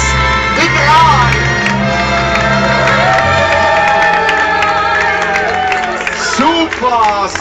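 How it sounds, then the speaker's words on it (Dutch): Restaurant crowd gives a standing ovation, loud sustained clapping with whoops and cheers over music, people shouting throughout. "geef een staande ovatie van de restaurant de Schneemoor"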